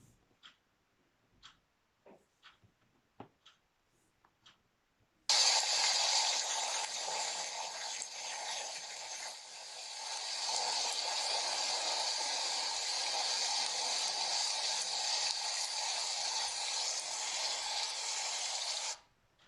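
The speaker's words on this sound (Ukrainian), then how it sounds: "Так, вірно, це звук дощу." A few sharp taps come first, then a dense steady hiss of rain begins abruptly and pours on evenly before cutting off.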